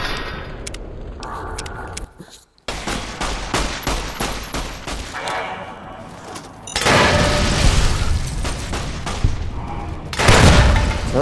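Gas bombs blowing up in Fallout: New Vegas, with a chaotic mix of booms, crackling bursts and rattling gunfire-like pops that build into heavier, louder blasts toward the end.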